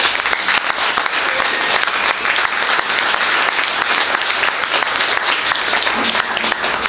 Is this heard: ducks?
no